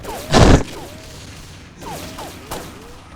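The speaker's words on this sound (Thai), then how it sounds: "มันยิงปืนรัวๆเลยครับ" Minigun fire from an M134 in the Xshot shooting game, a dense loud burst of rapid shots at the start with softer bursts later, over background game noise with no talking.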